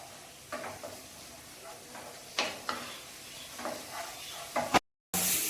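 Tomato puree sautéing in a pan for a Kerala white chickpea curry produces a low, steady sizzle broken by several scraping stirs, ending after a brief silent gap.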